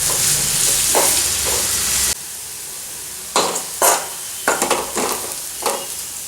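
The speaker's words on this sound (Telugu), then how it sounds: "ఇప్పుడు ఆనియన్స్ ఫ్రై అయ్యే వరకు మనం వీటిని వేంపాలి." Thinly sliced onions with curry leaves fry in a pan for a tomato curry, first as a loud, continuous sizzle, then as a quieter hiss broken by several bursts of scraping stirring, with no voices.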